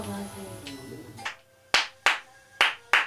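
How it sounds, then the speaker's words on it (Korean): Hands clap several times in a slow, deliberate rhythm to call up a spirit in a ritual, each sharp clap standing alone in a quiet room after a voice speaks at the start. "박수를 치며 영혼을 불러내자"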